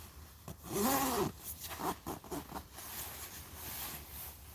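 A jacket zipper is pulled in a few quick rasping strokes, loudest near the start, then followed by a couple of softer short zips close by. A faint room background sits underneath.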